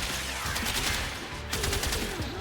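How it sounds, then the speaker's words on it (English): Rapid bursts of gunfire from the Higasa weapon in the video game Warframe, loud, repeated shots in two clusters with brief gaps, mixed with game effects and no talk. "I'm mashing my gunfire button right now"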